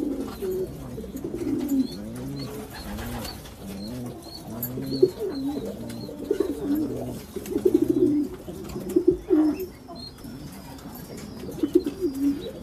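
A pair of young pigeons kept by a rural pigeon fancier coo repeatedly at close range, their low rolling calls recurring in overlapping phrases over a faint background, with occasional light chirps.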